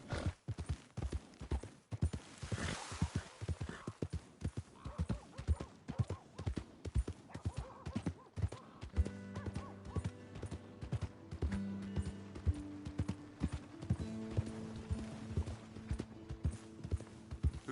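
Horse hooves in the video game Red Dead Redemption 2 clip-clop in a steady rhythm, close and distinct, and later a few music-like tones play alongside them.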